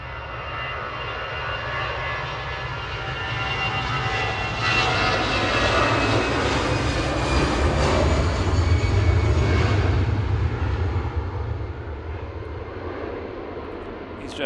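An Airbus A320 airliner, flight 4606 from Amsterdam, at Manchester Airport, giving a broad, steady jet roar that swells louder toward the middle and then slowly fades as it passes.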